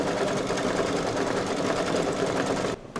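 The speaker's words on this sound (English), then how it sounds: "no color change is required to stitch the flag white fill" Single-needle embroidery machine stitching the white fill of a flag in a parade truck design, a loud, close, rapid rhythmic whir running continuously before stopping abruptly near the end.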